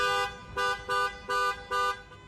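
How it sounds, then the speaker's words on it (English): Five regular car horn blasts in SoHo, New York traffic, each about a quarter second long, honking in a steady rhythm. The tone is harmonic and loud over a low traffic rumble. "They'll move if they could, but they can't, so they honk."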